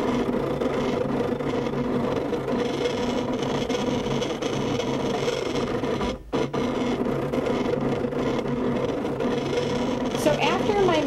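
A Cricut machine cuts holly leaves from a sheet of cardstock with a steady whirring and scratchy rasp, the carriage motor shifting in pitch, a brief pause midway, then resuming close by with no talk.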